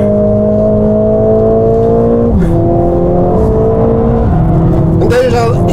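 Mercedes-AMG car accelerating hard up a long, steep uphill stretch of the Nürburgring: loud, close engine roar climbing steadily in pitch, broken by three quick upshifts.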